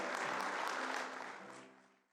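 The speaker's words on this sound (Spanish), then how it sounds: "le damos un aplauso de bienvenida" Audience applause welcoming a speaker at a Bible conference, a dense burst of clapping that stays full for a moment and then gradually fades away to near quiet.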